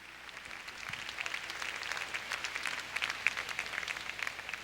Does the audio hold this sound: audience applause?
yes